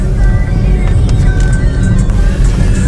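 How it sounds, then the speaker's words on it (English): Car tires rolling over a grated metal bridge deck at about 25 mph, a loud, steady droning hum with a rough buzzing texture throughout. "Noise is the grated metal beneath the tires"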